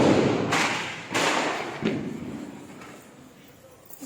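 Firecrackers burst during Diwali celebrations below a balcony: several loud thumping bangs at irregular intervals, each followed by a short decay, against a background of faint crowd noise.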